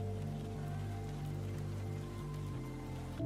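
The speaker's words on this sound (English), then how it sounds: "Cozy Reading Nook Ambience, Rain on Window and Thunder Sounds, Warm Fireplace" Rain falls steadily against a window in a cozy reading nook ambience, a soft, even patter layered over a low, sustained tonal drone.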